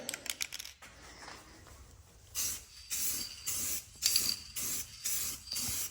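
Rattle can spray paint applied to a Jeep: an aerosol can shaken with rattling clicks, then several short hissing bursts of spray separated by brief pauses, close by.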